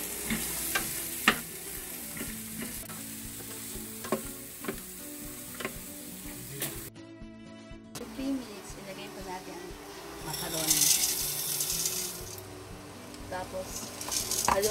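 Onions and carrots sizzle and fry in a pan for chicken sopas, stirred regularly with sharp scraping clicks of the utensil against the pan, a steady close sizzle continuing throughout while a person talks intermittently over it.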